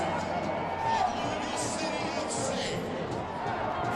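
Large over-capacity stadium crowd at a USL Cup final soccer match between Louisville City FC and Swope Park Rangers at Slugger Field in Louisville, Kentucky, a steady roar of distant crowd noise with chatter and swelling cheers throughout.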